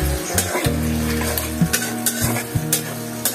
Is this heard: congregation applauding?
no